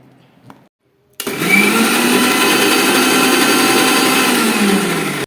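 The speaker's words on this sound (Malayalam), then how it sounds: "ഇനി നമുക്കിതൊന്ന് മിക്സിയിലൊന്ന് അടിച്ചിട്ട് വരാം" A brief quiet rustle, then a mixer grinder starts abruptly and runs at a steady high whine for several seconds blending eggs for mayonnaise, loud and close.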